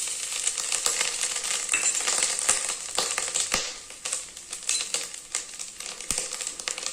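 Coconut and peanuts fry in oil in a pan for rice upma, a continuous crackling sizzle broken by close scraping and clinking stirs, with no voices.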